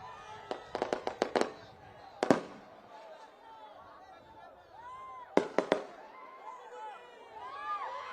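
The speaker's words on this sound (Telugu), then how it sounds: "టపాసులు ఆపండ్రా బాబు" Firecrackers bursting at a political rally: rapid strings of sharp, loud cracks in several clusters, heard close by amid crowd noise and someone talking.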